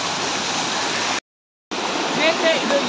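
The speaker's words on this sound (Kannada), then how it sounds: "ಎಳ್ನೀರು ಫಾಲ್ಸ್ಗೆ ಸ್ವಾಗತ ಸುಸ್ವಾಗತ. ನೋಡಿ ಫಾಲ್ಸ್." Elneeru Falls near Kalasa and Kudremukha roars as a loud, steady rush of falling water, broken by a brief silent gap before the torrent resumes.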